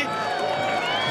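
Crowd of thousands of spectators at a flying soapbox race in Austria, a loud continuous roar of cheering voices filling a brief moment.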